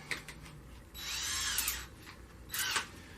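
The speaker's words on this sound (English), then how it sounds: "I'm just going to put my drill on here right now" A cordless power drill drives a Turbo Tank Cleaner in a home water heater tank that is about half full of sediment, spinning up in short bursts: one long whirring run in the middle and a brief burst near the end, close and fairly quiet.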